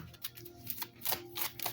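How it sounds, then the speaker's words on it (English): Thick deck of cards being shuffled by hand, a soft irregular riffling and flapping close by with no talking over it. "Let me shuffle these up a little bit."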